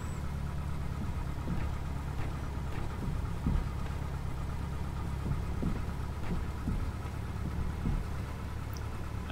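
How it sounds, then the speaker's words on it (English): Simulated aircraft engine in a flight simulator while the plane taxis around in a circle, a steady low idling drone with faint throbbing pulses and no voices. "I'm just going to do this taxiing around. We'll just whiz round in a circle here."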